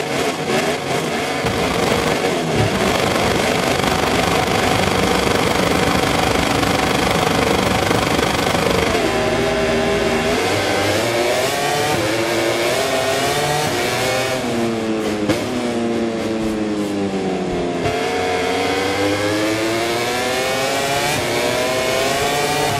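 MotoGP racing motorcycles revving on the starting grid at the Thai GP in the video game MotoGP 24, including Marc Marquez's number 93 Ducati, a loud dense roar of many engines with rising and falling revs, continuous throughout.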